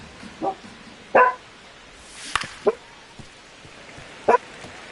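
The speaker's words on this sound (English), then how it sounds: "Why are you under here barking?" A dog barks a few times under a house, short sharp barks spaced irregularly, fairly close, over a faint steady background.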